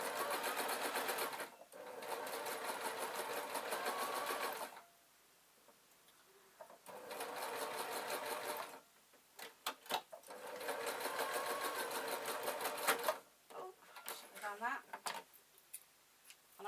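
A sewing machine stitching a seam on a gossamer layer top runs in three long bursts separated by pauses, then gives a few short stops and starts near the end, close and clear.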